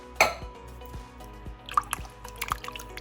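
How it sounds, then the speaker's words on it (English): Two cans of fire-roasted diced tomatoes dumped into a soup pot for hamburger soup, giving a wet splat followed by a few soft drips and squishy plops, close and fairly quiet. "Now I'm going to add 2 cans of fire roasted tomatoes."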